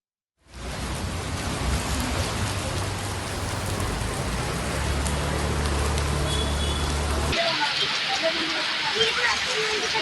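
Heavy rain pouring down in Hyderabad, a dense and steady hiss of falling rain that starts abruptly, with a low rumble under it and a sharper spattering texture near the end.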